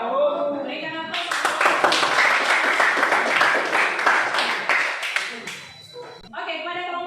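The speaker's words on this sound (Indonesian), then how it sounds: "Berikan aplaus." Audience clapping and cheering after a student group's class presentation, a dense burst of applause lasting several seconds before fading, with voices heard at the start and end.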